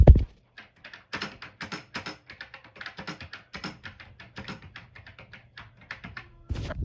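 Rapid, uneven typing on a Commodore 64 keyboard, close and alone, with a dense run of clattering keystrokes and a heavier knock at the start and end.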